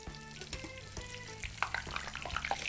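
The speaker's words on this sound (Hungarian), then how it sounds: "mehet is be a forró sertés vagy vaddisznózsírbe" Breaded food fries in hot pork or wild boar lard, a steady close crackle and sizzle with sharp pops. Earlier tonal sounds fade out as the frying goes on.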